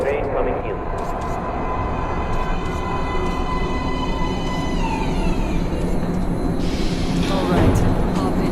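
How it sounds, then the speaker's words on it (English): A metro train in the Metro Redux video game pulls into an underground platform with a steady, loud rumble and high metallic squeals of the wheels as it slows. The noise builds toward the end and covers the whole clip. "Please step away from the edge of the platform. Train coming in."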